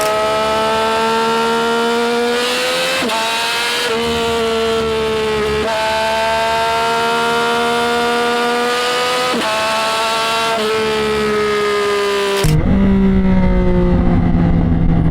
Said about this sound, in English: just letting off throttle, hearing the pops on the R9